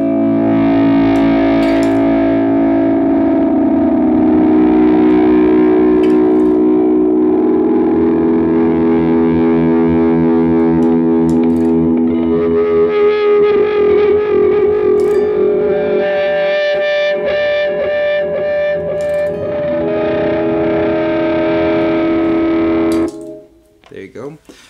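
Distorted electric guitar through a pedalboard with feedback and reverb rings out through heavy echo, sustained layered tones building for over twenty seconds before cutting off abruptly.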